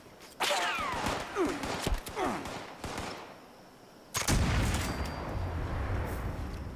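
Explosive musket gunfire from Fallout 76, the enhanced-reload musket firing booming shots: a series of sharp reports with crackling blasts early on, then a heavy explosion-like blast that rolls into a sustained rumbling roar.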